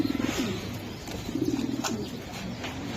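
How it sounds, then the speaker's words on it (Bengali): Racing pigeons of a long-feathered breed coo in low, soft bursts twice, with a faint background hum and no talking. "এই যে দেখছেন এক হাত ফেদার লং এর কবুতর ভাই"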